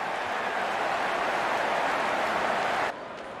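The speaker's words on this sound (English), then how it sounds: "Crowd is enjoying every bit of this action." Broad, steady stadium crowd roar from a video game cricket match in Real Cricket 22, New Zealand versus West Indies at the T20 World Cup, holding constant and loud before dropping suddenly near the end.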